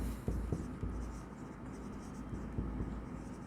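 Pen scratching on paper while writing notes during an accounting lesson, soft, close strokes with a few sharper taps, quiet and continuous, with no talking.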